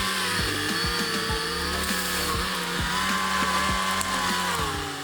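A Deere 450J bulldozer strains to push down a tree with a complex root system, a loud continuous engine roar with repeated cracking, splintering snaps of wood and roots at close range.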